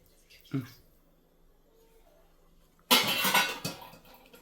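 Water poured into a pan of chicken gravy simmering with the meat, a loud splashing rush lasting under a second after a quieter stretch with a small clatter of utensils near the start.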